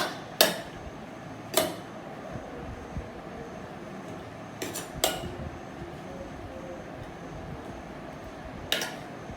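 A vegetable salad with chopped green chili being mixed in a bowl, giving a few sharp clinks and taps spaced across a quiet background.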